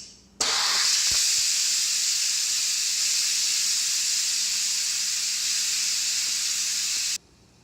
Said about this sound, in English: I'm going to release the steam now.